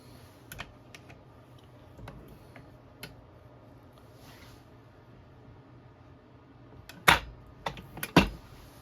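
A 3-inch 12 gauge shotgun shell loaded with .29 caliber buckshot and topped with an overshot card is crimped in a press, giving a few loud, sharp clunks near the end after scattered faint clicks and handling.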